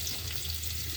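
Chopped onion dropped into hot oil left over from frying fish: a short burst of steady, fairly loud sizzling hiss close by, with no speech.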